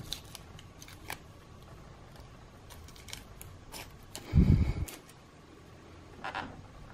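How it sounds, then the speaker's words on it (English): Scissors snipping threads after machine-sewing snaps onto fabric, small quiet clicks scattered among faint handling noises, one louder thump midway. "We'll lift our needle and cut these threads."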